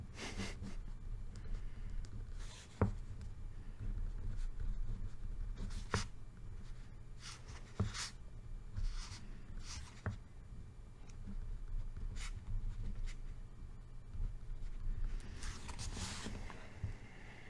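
Pen or pencil scratching on paper by hand, quiet and close, in short irregular strokes with pauses, over a steady low background hum and occasional soft breaths.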